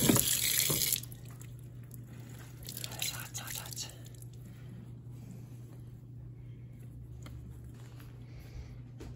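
Hot tap water running over a cotton T-shirt while tree sap is washed out, a loud splash at first, then a softer steady trickle with faint handling noise.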